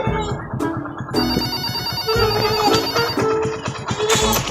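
A phone rings with an incoming call, a loud, close electronic ringtone melody repeating in bursts, with no talk over it.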